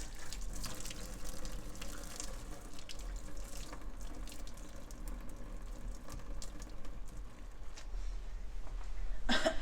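Water from a soup pot of vegetables and beef being drained into a kitchen sink: a steady, close rush of running water pouring for several seconds, with a small clatter at the end.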